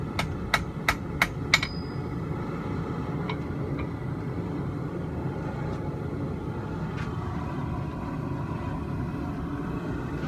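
A hammer rings on hot steel at a forge weld in four or five quick sharp strikes, followed by a few sparse lighter taps over a constant low roar of the forge.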